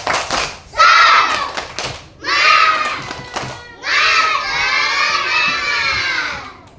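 Schoolchildren in a classroom doing the tepuk semangat clapping chant, three loud bursts of shouted chanting voices with claps between, the last burst longest, close and energetic.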